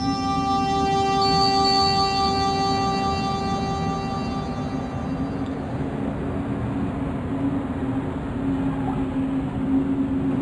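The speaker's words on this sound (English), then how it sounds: "The train was my ride out of there." A steady rumbling train with sustained whistle-like tones plays continuously, with an even, synthetic quality of game audio from Broken Sword II: The Smoking Mirror.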